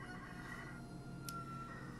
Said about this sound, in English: Oh, I hear my rooster again.